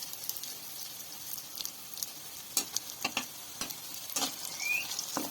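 Adhrasa pitha made with palm pulp frying in a pan in a village kitchen, giving a soft, faint, continuous crackling sizzle with scattered sharper pops and no voices.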